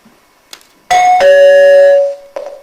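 Loud nearby doorbell chime, a clear two-note ding-dong with a long ringing tail lasting about a second, set against a quiet room during a stage drama scene, with a couple of soft knocks around it.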